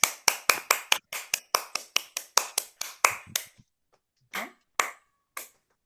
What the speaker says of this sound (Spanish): Eu bati palmas.